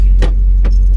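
Keys jangle twice sharply as the ignition of a 1986 Honda Civic CRX HF is switched off, close and loud over a deep low engine rumble.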